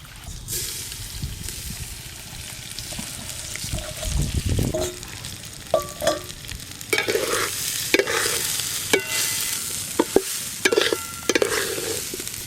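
Turmeric-coated gobindobhog rice with cashews and raisins is stirred in a pot for basanti pulao, with a sizzling fry under repeated close scrapes and clinks of the spoon against the metal.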